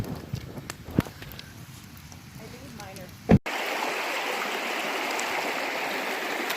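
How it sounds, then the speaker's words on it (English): A Catskill Mountains stream in autumn rushes steadily, loud and close, after a few seconds of quieter outdoor ambience with knocks and handling sounds near a campfire. "Look at this beautiful stream."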